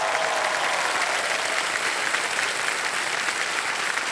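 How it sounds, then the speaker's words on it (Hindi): Studio audience applause on a television quiz show set, a full, continuous burst of clapping from a large crowd, loud and unbroken for several seconds with no speech over it. "तालियां बजाएं।"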